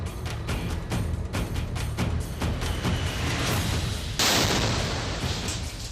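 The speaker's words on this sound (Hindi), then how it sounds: "कटीली तारों पर टंगे झंडे से हुआ ये धमाका सुर्खियां बटोर रहा है।" Blast from a flag hung on barbed wire, a dense run of loud, sharp bangs and crackles ending in a heavy sustained boom, close and with no voices.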